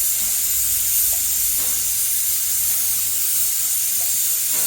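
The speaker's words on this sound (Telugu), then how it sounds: "ఒక 6 టేబుల్ స్పూన్ ఆయిల్ వేసుకుంటున్నాను" Oil heating in a pan for tamarind rice gives off a steady, close hiss and sizzle that holds evenly for the whole stretch, with no voices.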